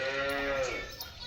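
A cow bellows one drawn-out low moo close by, easing off as farmyard background noise continues.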